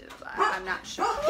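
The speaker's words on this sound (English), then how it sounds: "That's my dog, sorry." A pet dog at home gives a few sharp, close barks and yips, mixed with a man's brief speech.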